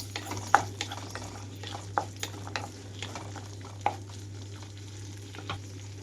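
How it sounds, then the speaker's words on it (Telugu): Small-cut green and red chilies fry in hot oil with a steady soft sizzle, broken by scattered clinks and scrapes of a spoon stirring in the pan; no voices. "వీటన్నిటిని ఆయిల్లో వేసి వేయించుకుంటున్నాను."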